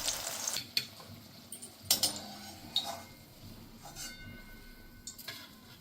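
Bitter gourd pieces fry in oil in a pan for a Bengali shukto, giving a quiet, steady sizzle with a few sharp metal clinks and scrapes of a spoon stirring.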